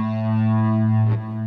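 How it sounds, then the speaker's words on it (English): Electric guitar played through a pedal that adds distortion and delay, a loud sustained chord ringing with a thick, fuzzy, echoing tone and a short swell near the end. "You can hear as I bring the pedal down, the distortion and the delay are coming in there."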